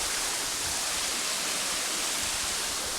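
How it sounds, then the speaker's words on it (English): A waterfall's constant rushing roar at Whiting Bay on the Isle of Arran, loud and unbroken, with no other sounds. "Waterfall."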